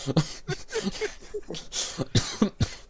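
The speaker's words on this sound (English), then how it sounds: "Now I'm coughing." Several sharp coughs and throat-clearing bursts in quick succession, close and fairly loud, with a brief pause in the middle.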